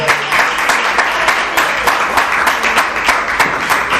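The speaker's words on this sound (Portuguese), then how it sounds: "Pode bater as palmas para Jesus" A church congregation claps along during a worship service, steady rhythmic applause with sharp repeated hand strikes filling the space for the whole stretch, no voices standing out.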